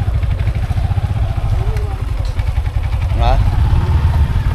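A motorcycle engine runs steadily close by with a low rumbling throb, while people talk over it in short exchanges.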